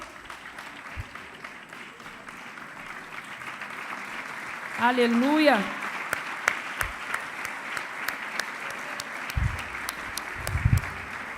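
Church congregation applauding together as they sit down after a sermon passage, a steady wash of clapping with a brief sung or shouted voice rising over it midway and talk continuing around it.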